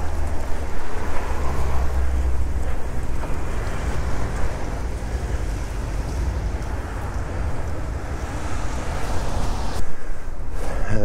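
Strong, warm wind buffets the microphone in a continuous low roar and howl, steady and loud throughout with no voices.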